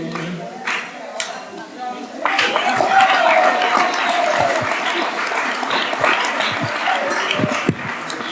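Audience applause after a presentation at a Papiamentu language conference, starting with a few scattered claps and swelling into steady, fairly loud clapping from a room full of people that carries on to the end.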